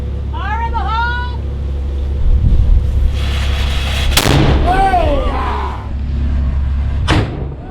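Ship's defence cannon aboard the HMB Endeavour replica, a tall ship at sea, fired against pretend pirates: a sharp boom around the midpoint, a second blast near the end, with wind, water and seabird-like calls around it.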